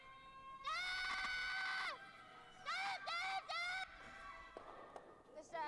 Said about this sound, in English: you can hear the crowd here go absolutely nuts